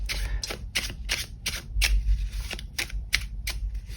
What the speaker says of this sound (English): they're just so wonderful to shuffle